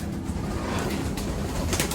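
Pigeons at a Filipino loft about to be released, cooing and rustling in a steady, close bird chorus with a few brighter flutters near the end.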